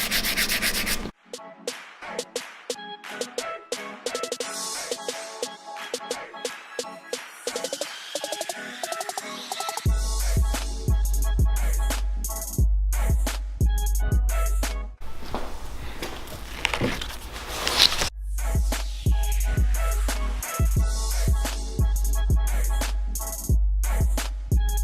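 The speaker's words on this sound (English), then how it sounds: "Now we got some water, some soap, and an 800 grit, and we're going to begin sanding this down." Steady back-and-forth scrubbing of 800 grit wet sandpaper with soapy water on an old Lotus steering wheel, rhythmic rubbing strokes close up, with a low hum joining partway through.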